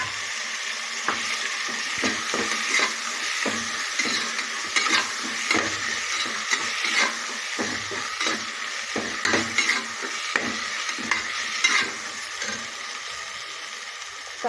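Tomatoes frying in a pan for mushroom biryani after ginger-garlic paste, with a constant close sizzle and repeated scraping and clinking of a spoon against the pan as they are stirred.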